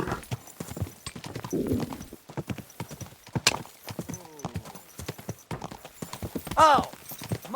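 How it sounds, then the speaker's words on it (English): Horse hooves clip-clop steadily in Kingdom Come: Deliverance 2, with a brief whinny near the end; voices talk over the hoofbeats throughout. "Easy, good horse."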